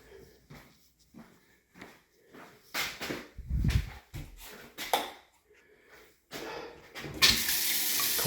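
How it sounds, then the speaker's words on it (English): Cold water from a bathtub tap splashes in bursts with handling thumps and rattles between them, then settles into a steady, loud stream at the end. "Cold water is okay."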